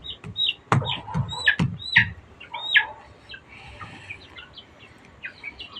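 A chicken clucks close by in short bursts of sharp, excited calls, several in quick succession, then quieter trailing clucks.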